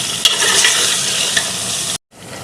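Beef sizzling steadily in a pan with onion, garlic, ginger and chili while being stirred for a stew, loud and close, a few scraping knocks, ending abruptly.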